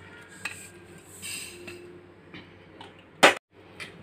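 Roasted ingredients are moved onto a plate with soft scrapes and light taps of a utensil, punctuated by one sharp metallic clink near the end.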